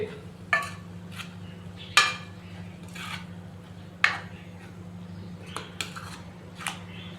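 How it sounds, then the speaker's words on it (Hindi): Keema and lobia beans (long green beans) are stirred in a metal pot, with a spoon scraping and clinking against the sides in several sharp, separate knocks over a steady low hum. "अच्छे से हम इसको मिक्स करेंगे।"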